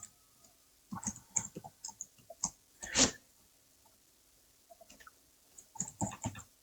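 Fairly close keyboard typing of city names into a Google Forms dropdown, with irregular bursts of key clicks around a brief louder clack and a quiet pause before more rapid taps.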